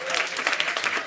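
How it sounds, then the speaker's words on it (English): A short burst of audience applause for a conference panel discussing Broad-Based Black Economic Empowerment, with busy overlapping claps that stay steady and fairly loud through the brief moment. "I think our panel deserves a round of applause."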